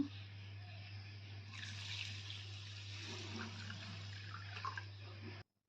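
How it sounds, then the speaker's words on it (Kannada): Basmati rice and moong dal being rinsed in water for dal khichdi, a steady running, swishing wash of water over a constant low hum, with no talk. "ಎರಡು ಸರಿ ಚೆನ್ನಾಗಿ ನೀರಲ್ಲಿ ತೊಳೆದು ನೀರನ್ನು ತೆಗೆದು ಇಟ್ಕೊತಾ ಇದ್ದೀನಿ"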